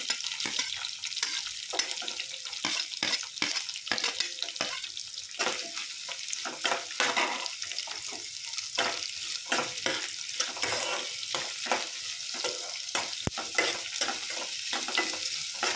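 Onions and green chillies fry steadily in a pan for a chapati oggarane, giving a continuous close sizzle broken up by frequent scraping stirs from a spatula, with no voices.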